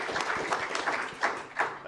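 Audience applause at a Defense Innovation Board public meeting, a steady patter of many hands at moderate volume with a few louder swells, heard alone without talk.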